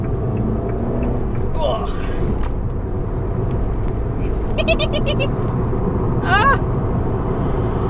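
A remapped Abarth car fitted with a new intercooler, accelerating in second gear: a steady low engine rumble runs throughout, with brief exclamations and voices over it.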